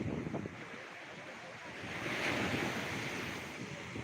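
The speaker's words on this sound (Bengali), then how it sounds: "একেবারে খেপা দীঘার রাগিনী জলোচ্ছ্বাস দেখতে পাওয়া যাচ্ছে আজ সন্ধ্যের থেকেই সমুদ্র সৈকতে" Rough sea surf crashing onto Digha beach on a full-moon night: a continuous roar of breaking waves swelling louder midway, with heavy wind buffeting the microphone and no clear voices.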